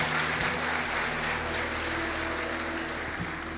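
A church congregation at a Sunday celebration service applauds together, a steady, moderately loud patter of many hands that carries on evenly without any speech.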